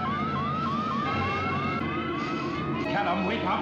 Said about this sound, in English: So they can't hear that loud Cybermat noise.